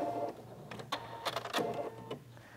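A sewing machine stitching a sundress, with short bursts of quick mechanical clatter broken by pauses, close and fairly quiet over a steady low hum.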